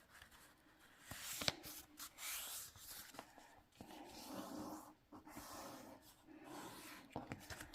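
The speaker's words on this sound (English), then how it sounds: "I'll just use my fingernails to crease it" A sheet of paper is folded into quarters and creased with fingernails, giving soft, close rubbing and scraping strokes in short bursts against a quiet background.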